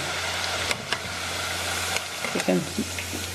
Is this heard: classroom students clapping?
no